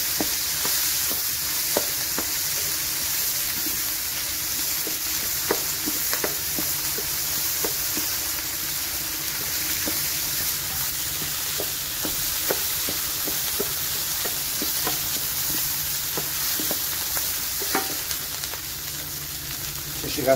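Tomato paste, raisins and onion stirred and fried in a pan, with a steady sizzle running throughout and repeated sharp scrapes and taps of the spoon against the pan, close and fairly loud.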